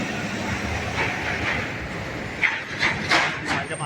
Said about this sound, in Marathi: ही 100+ वर्षापूर्वीची मेट्रो आपल्या वरून चालली आहे.